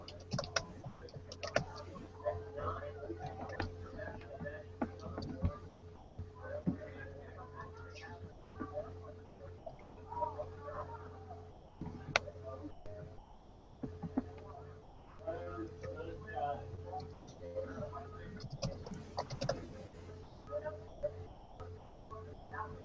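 Computer keyboard typing during a group meeting, with soft, irregular key clicks and occasional taps running quietly beneath people talking at a steady hum.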